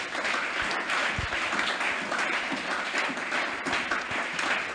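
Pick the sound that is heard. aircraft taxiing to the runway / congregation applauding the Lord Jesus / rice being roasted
congregation applauding the Lord Jesus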